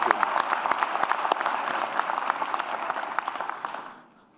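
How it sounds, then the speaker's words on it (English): Sustained applause from an audience at an awards celebration honoring award recipients, including a lifetime achievement award, with dense clapping that holds steady and then fades out near the end. "Please, let's give them another big round of applause."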